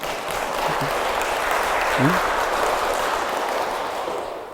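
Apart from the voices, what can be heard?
audience applause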